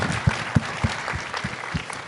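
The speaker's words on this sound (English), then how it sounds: "So a nice little round of applause for these two wonderful human beings." A small group claps at a fan convention, producing a short, fairly quiet round of applause with a loose rhythmic patter of individual claps.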